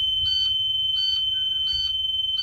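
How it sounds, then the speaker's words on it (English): A school bus emergency window alarm sounds a high, piercing electronic tone steadily, with a pulsing beep repeating about three times, loud and close. "And the alarm would sound"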